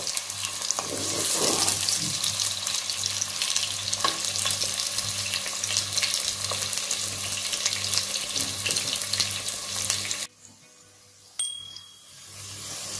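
Onions frying in a pan, a continuous close sizzle with light crackle and occasional stirring that cuts off near the end, leaving a faint quiet background with a brief clink; no speech.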